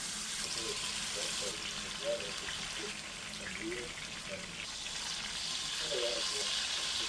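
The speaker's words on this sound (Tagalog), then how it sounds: "prito mo na ang manok." Marinated chicken fries in a hot pan, giving a steady, soft sizzle and hiss that runs throughout with faint bubbling pops.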